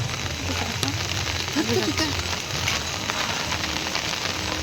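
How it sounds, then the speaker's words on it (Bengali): Heavy rain pouring in a steady, dense hiss, with a brief murmur of a voice in the middle. "কি বৃষ্টি ভাই"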